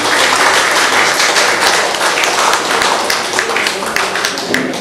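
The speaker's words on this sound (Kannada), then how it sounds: "ಎಲ್ಲರಿಂದ ಒಂದು ದೊಡ್ಡ ಚಪ್ಪಾಳೆ" Loud, full audience applause at an LIC office retirement function, many hands clapping steadily and close for the whole stretch, with a voice faintly mixed in beneath.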